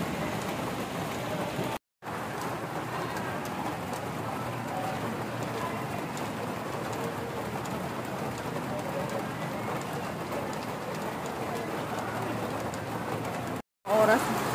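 Steady rain pours down continuously at a dorm, a dense even hiss that is briefly cut twice, with faint bird calls mixed in.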